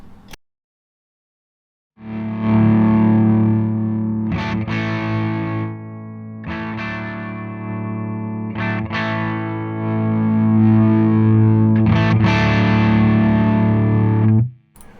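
Heavily distorted electric guitar chords through a Two Notes Le preamp ring out in several sustained bursts with short gaps between them, loud and close, no talking.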